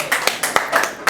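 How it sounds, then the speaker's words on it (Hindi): Audience clapping in a training or review session, heard as a short burst of uneven, fairly close hand claps with distinct sharp hits over a steady patter. "हम लोग सब लोग खड़े होकर उनके लिए जोरदार ताली."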